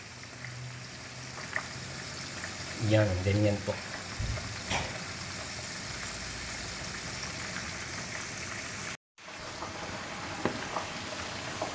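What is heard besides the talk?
paksiw milkfish in vinegar and ginger boiling in pot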